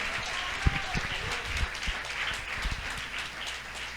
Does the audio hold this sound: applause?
yes